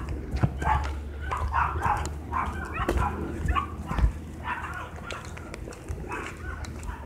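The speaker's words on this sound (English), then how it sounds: "Just bark at me all you want, dogs." Dogs yip and bark on and off at a moderate distance around a neighborhood fire scene, with faint background voices and scattered clattering noise underneath.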